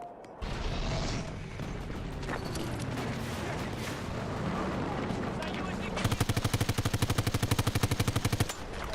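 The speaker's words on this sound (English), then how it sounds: "Got the F-2000 gun." An F-2000 assault rifle in Battlefield 2042 fires a fast, evenly spaced automatic burst of about two dozen sharp shots, loud and close, over a busy battlefield din.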